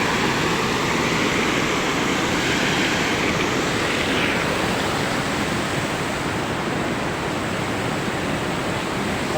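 Water pouring over a small mini dam, a loud, unbroken roar of rushing and falling water close by, steady throughout with no voices.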